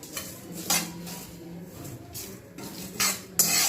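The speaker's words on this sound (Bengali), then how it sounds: "রোস্ট করে নেব। পোড়ালে চলবে না কিন্তু।" Ingredients for a green pea kochuri filling are stirred and dry-roasted in a pan, with a spatula clinking and scraping against the metal in irregular bursts at close range over a low background hiss.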